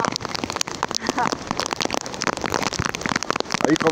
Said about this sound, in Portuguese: Com chuva, menino!